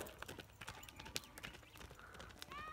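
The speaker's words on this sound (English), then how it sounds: "Sounds like a horse." Horse hooves clip-clop in a steady, fairly close rhythm of sharp knocks over a low background hum, with no talk.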